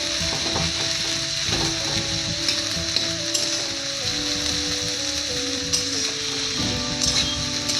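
Onions frying in a pan for a Bengali chicken sundori dish give off a steady, dense sizzle throughout, with faint stirring clinks and a constant crackle at close range and no voices.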